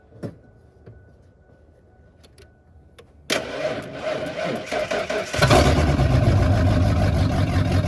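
A 1953 Ford F250 truck engine, jump-started with jumper cables, cranks after a few quiet clicks, catches, and then roars louder into a rough, close idle.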